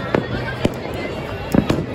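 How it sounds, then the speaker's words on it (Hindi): A few sharp firework bangs for Makar Sankranti in Jaipur go off at irregular intervals, fairly near, over a busy background of crowd noise and voices. "गाइज अब शुरू हो चुकी है आतिशबाजी।"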